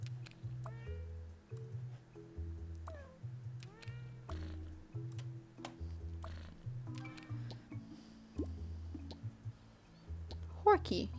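Repeated short cat meows in a video game rise over a bouncy, looping musical bassline, with occasional clicks and a sharper caterwaul near the end.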